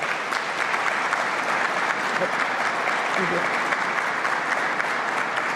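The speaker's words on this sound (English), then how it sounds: "Let's give them a round of applause." An audience at a governor's economic development announcement applauds steadily and loudly for several seconds in a large room, with dense continuous clapping and faint crowd murmur.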